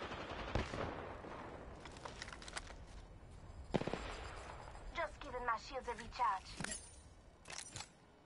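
Weapon fire in the Apex Legends battle royale shooter, with bursts of rapid shots and sharp cracks mixed with game effects and a loud thump midway, under a busy, layered game soundtrack.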